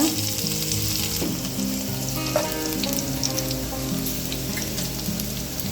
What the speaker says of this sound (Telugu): ఈ ఉల్లిపాయలు, పచ్చిమిర్చి కారం మంచిగా వేగాలి.